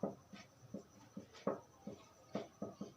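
Pen writing math on paper, a close, faint sequence of short scratchy strokes in an irregular rhythm, with no talk.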